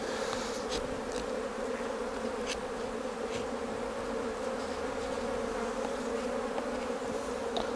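Honeybees swarm around an opened beehive while smoke drives them off the tops of the frames, making a continuous, dense, steady drone that fills the clip, with faint clicks and knocks over it and no talking.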